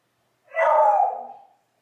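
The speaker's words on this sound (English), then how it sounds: "my dogs are gonna go absolutely ballistic" A dog lets out a single loud, drawn-out bark or yelp that trails off over about a second, close by in an otherwise quiet indoor room, as someone is about to walk in the door.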